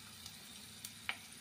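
Cumin seeds and dried red chillies sizzle in hot oil for a tempering meant for raw mango dal, a faint, steady crackle with a few small pops over a short stretch.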